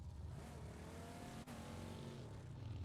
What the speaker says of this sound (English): surely they've heard the cars at the top